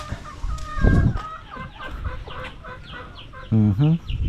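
Native chickens clucking close by on a farm in repeated short bursts, with a louder rooster-like call near the end.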